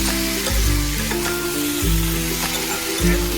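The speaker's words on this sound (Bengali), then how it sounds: "এইবার এতে জল দেবো" Spiced vegetables fry and sizzle in a pan as water goes in, a steady loud hiss with low bursts and gentle stirring knocks, no voices.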